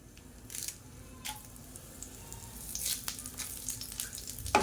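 Red chillies, asafoetida and curry leaves sizzle and crackle in hot oil in a pan, with sharp pops and bursts of spattering over a steady frying hiss, and occasional stirring.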